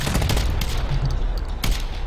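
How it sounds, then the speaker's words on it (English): Loud, close gunfire in a video game, with heavy rapid shots and bursts filling the short moment without pause. "More bullets are flying."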